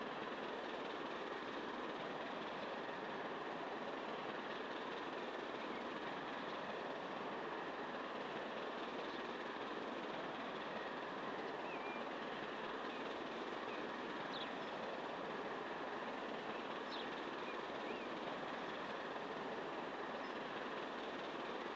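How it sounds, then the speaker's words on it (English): Trains running in the Transport Fever 2 video game give a steady, dense rumble with faint metallic rail noise, continuous and unchanging throughout, with no talking. "Here comes one of the trains back down again"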